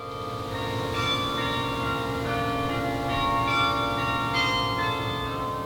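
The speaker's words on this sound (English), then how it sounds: "When you play the carillon, you're not actually moving the bells themselves." Carillon bells ring from a tower, layered tones overlapping and sustaining, with fresh strikes around the first, third and fourth seconds over a steady wash of resonance.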